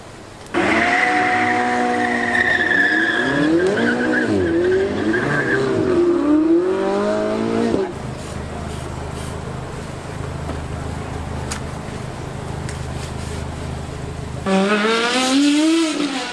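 A supercar driven sideways up a hill at a motorsport event, its engine loud and rising in pitch, tires squealing through the slide, then a lower rumble as it moves off and a second revving burst near the end.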